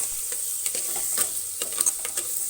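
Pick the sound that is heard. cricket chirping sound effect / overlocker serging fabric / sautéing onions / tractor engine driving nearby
sautéing onions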